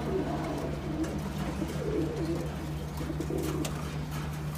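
Soft coos from high-flying Giribaz and other racing and fancy pigeon breeds, kept in Rajshahi and sold in pairs, repeat over a steady low hum, with faint background chatter throughout.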